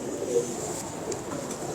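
Pigeons coo softly at a champion pigeon loft in Lahore, low murmuring calls under a steady hiss of background noise, with no one speaking.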